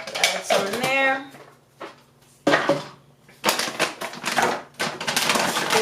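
Reusable ice cubes dropped into a glass for iced green tea, several sharp clinks and clatters in separate bursts with short pauses between them, close and fairly loud.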